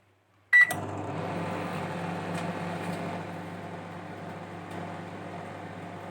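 Microwave oven heating appalam (papad), starting with a sharp click and then a steady electrical hum with fan noise running continuously, close and moderately loud.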